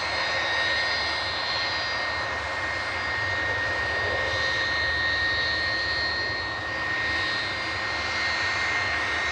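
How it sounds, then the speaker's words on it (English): A Ryanair jet arriving from Santander touches down at Manchester Airport. Its engines roar steadily and loud for the whole stretch, with a faint swell and fade and no voices. "Ryanair from Santander touching down."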